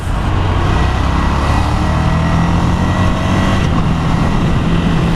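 Ducati Scrambler motorcycle engine heard while riding, a loud steady drone with the throttle cut, rumbling low and continuous close to the rider throughout, with wind rushing over the mix.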